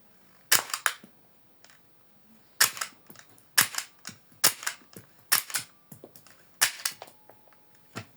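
A string of sharp, loud pops from a toy Glock 18 pistol, fired singly and in quick pairs with short pauses, each crack snapping off abruptly in a quiet room.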